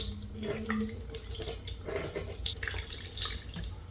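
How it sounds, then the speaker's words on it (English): Water runs and drips into the coolant reservoir tank of a Suzuki GSX-R1000R motorcycle, a steady soft trickle with occasional splashes, fairly faint and close. "And now we are gonna fill water in the reservoir tank up to this level."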